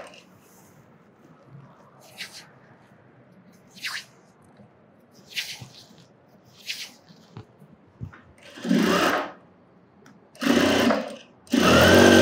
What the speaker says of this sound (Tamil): இப்போ இதையும் அதே மாதிரி தைச்சிடலாம்.